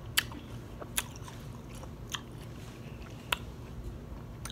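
Crisp, juicy bites and wet chewing of fresh watermelon, recorded close in a quiet room, with a few sharp crunches spaced a second or so apart over soft mastication.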